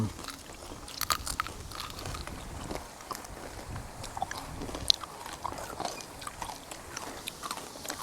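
Bites into crunchy deep-fried crispy Thai pork, a string of sharp crackling crunches and chewing at close range, with faint background noise throughout.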